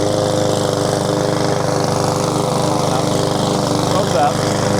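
PowerSmart 22-inch self-propelled rear-wheel-drive lawn mower running, its engine droning loud and steady at close range with a constant throbbing hum throughout.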